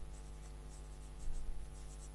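Marker or chalk writing figures on a board during an accounting lecture on bad debts, a faint steady scratching with small strokes, a slightly louder patch midway, over a quiet room hum.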